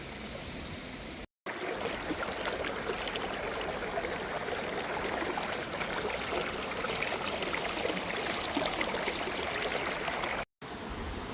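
A river flows past a hillside settlement under rain clouds, its steady, dense rushing and gurgling filling the whole stretch without pause and without voices.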